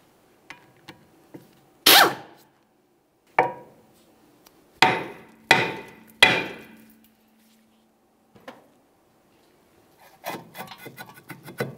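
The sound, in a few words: breaking brake rotor free from wheel hub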